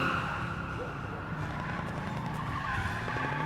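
A gangsters' car roars away at speed in an action film, its engine and tyres giving a steady, loud, dense rush that fills the whole moment, with no voices over it.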